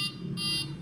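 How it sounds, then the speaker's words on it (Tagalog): A Dahua fire alarm system buzzer sounding during installation, a steady piercing electronic tone pulsing in short regular bursts, loud and close. "Pindutin mo tong alarm"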